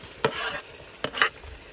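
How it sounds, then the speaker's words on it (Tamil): Tomatoes and masala are sautéed in a pan over a low flame in a village setting, a soft sizzle broken by a few quick spatula scrapes and stirs, with no talking. "தக்காளியும் போட்டு நல்லா வதக்கி எடுத்துடலாம்"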